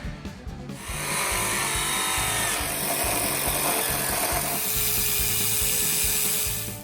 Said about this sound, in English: Why, thank you, angle grinder.